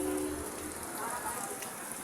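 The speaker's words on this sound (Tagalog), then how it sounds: "Abutan tayo ng ulan yan, Lots." Rain pattering steadily on a surface, a dense close hiss of drops that continues evenly throughout, with a faint low murmur underneath.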